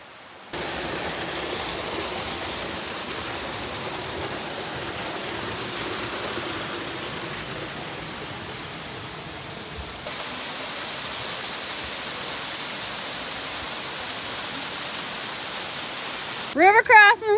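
A river rushes at a trail crossing on the Appalachian Trail, a steady broad roar of flowing water that holds for the whole stretch, close and constant.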